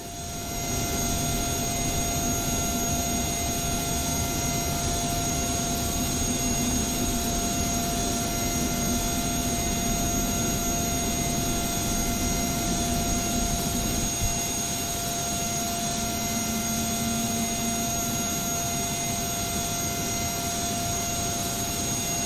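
A DC-8 jet engine starting in a flight simulator game, heard as a loud steady whine and roar with constant high tones over a droning rumble, unbroken throughout with no talking.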